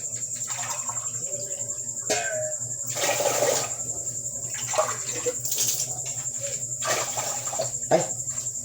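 Water pouring into a cooking pot for about four cups, a steady splashing stream with several surges and brief pauses, under a constant high insect-like whine.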